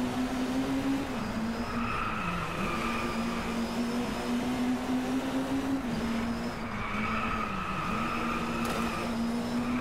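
A race car engine drones steadily at high revs in DRIVECLUB, its pitch dipping and climbing with gear changes and cornering, with faint tire noise and no talking.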